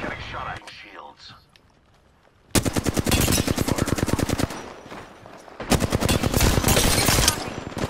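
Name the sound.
gunfire in the video game Apex Legends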